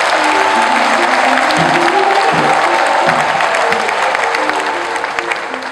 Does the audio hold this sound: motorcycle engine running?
no